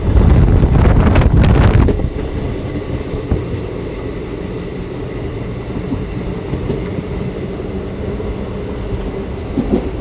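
Ahmadpur–Katwa passenger train running on a single-line route through open fields, heard from on board as a steady loud rumble with clattering wheels and buffeting wind, a harsher burst at the start.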